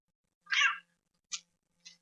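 A cat meows in the video game Postal 2, three short, clear meows spaced apart, the first longest and loudest, the last two brief and softer.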